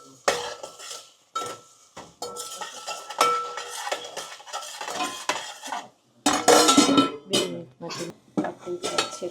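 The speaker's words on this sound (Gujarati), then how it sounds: "મિક્સ કરી દઈએ" Spatula or spoon scraping and clinking around a metal pan while stirring turmeric into potatoes for poha, in irregular bursts of clatter with a faint sizzle underneath and a brief pause midway.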